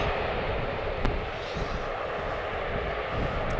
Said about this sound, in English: an Airbus Neo from EasyJet coming in from Geneva, land just now.